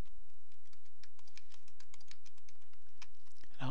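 Steady typing on a computer keyboard to enter a login ID and password, a close, rapid run of crisp key clicks with brief pauses, alone with no talk.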